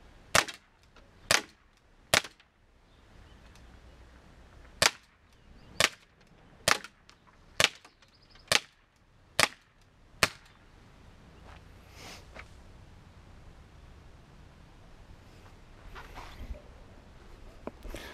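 An airsoft gun fires at a target in a rapid string of about nine sharp, snappy cracks at irregular intervals, close and loud, followed by quieter handling noises.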